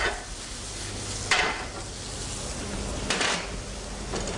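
Onions, garlic and chopped chilies fry in a pan. A continuous sizzling hiss is broken by a few brief scraping bursts as they are stirred.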